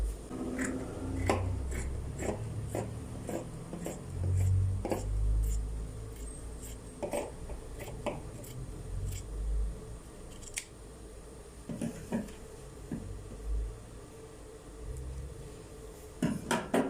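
Scissors cut white fabric for a homemade chef cap, a series of crisp snipping clicks in irregular bursts, close and fairly quiet, with soft rustling of the cloth between cuts.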